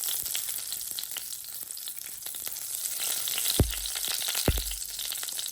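Mustard seeds, fenugreek and cumin sizzle and crackle in hot oil, a constant bright frying hiss with scattered pops and two louder clunks near the end, no talk.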